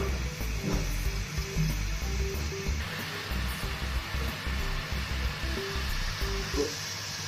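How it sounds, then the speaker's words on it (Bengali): About two cups of water in a pot heating to a boil for tea on a stove, a continuous soft hissing and bubbling rush with faint knocks, close and steady. "তো আমার চায়ের পানিটা ফুটে উঠেছে"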